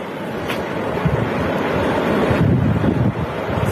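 Floodwater rushes across a road in a steady, loud roar with gusting wind buffeting the microphone, a continuous churning wash with no voices.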